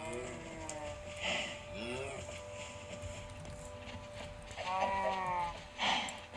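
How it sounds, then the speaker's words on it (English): Sheep bleating in a basement, several wavering bleats from more than one animal near and far, with quieter background noise between the calls. "Sheepies."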